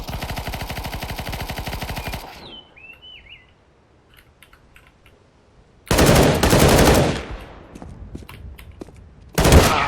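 Rapid automatic gunfire in the game CS:GO bursts loudly, then falls quiet with a few faint chirps and clicks, before two more dense bursts of fire.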